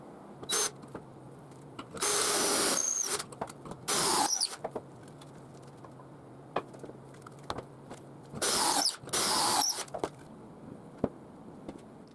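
Power drill boring pocket screw holes in wormy curly maple for a coffee table, heard as several loud bursts of a few seconds each with quiet gaps between them, close up.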